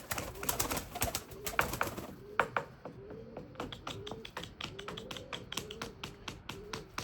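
Pigeons flutter and coo softly amid a steady patter of quick taps and wing claps, fairly close, with no talking.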